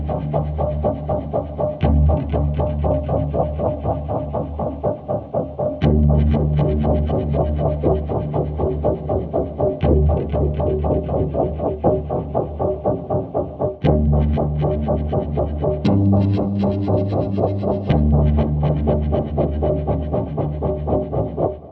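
Distorted guitar from the Dystopian Guitars sample library by Pulse-Setter Sounds, playing a dense, chuggy, rhythmic low riff that changes pattern every few seconds, steady and loud throughout with no talking.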